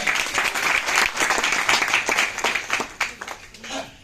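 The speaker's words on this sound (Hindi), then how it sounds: "एक बार सभी सर के लिए जोरदार तालियां" Loud, dense applause from a seminar audience at a business marketing-plan meeting in Faridabad, continuous clapping filling the room with a few voices mixed in.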